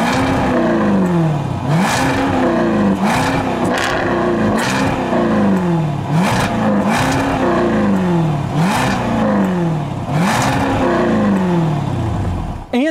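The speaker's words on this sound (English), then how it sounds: "Take a listen to this car revving." A 2021 Jaguar F-Type R with a 575-horsepower engine and quad exhaust revs repeatedly, about seven sharp, loud blips that rise and fall in a steady rhythm, close by and with no talking.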